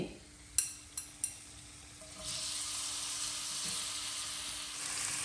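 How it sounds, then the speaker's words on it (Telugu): Onions dropped into hot oil in a kadai, with a few sharp clacks at first and then a steady, moderately loud sizzle that builds and keeps going. "పక్కన కళాయిలో కూడా ఆయిల్ వేసి ఉంచాను కదా, దీనిలోనేమో ఫస్ట్ ఆనియన్స్ వేసేసి"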